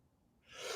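A sneeze bursts out during a hockey podcast, starting quietly with a breathy intake and then a loud, hissy, airy blast in the second half, close to the microphone.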